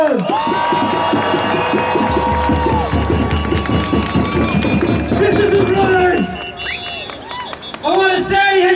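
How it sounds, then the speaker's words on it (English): A crowd at an outdoor rally for Gaza claps and cheers loudly, with shouts and whoops rising over the applause, while a loud voice carries through the mix. "Everybody, give him a round of applause!"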